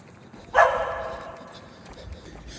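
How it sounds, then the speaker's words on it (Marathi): A single sharp dog bark rings out, then fades into a quieter outdoor background. "तो बघा कोणावर तरी भुंकतोय."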